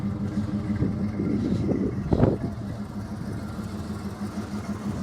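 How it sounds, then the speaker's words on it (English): A 1979 Pontiac Trans Am with a 6.6L 403ci V8 idles through quadruple tailpipes, a steady low rumble close by with a brief swell in the middle. "Gorgeous note from the quadruple tailpipes there."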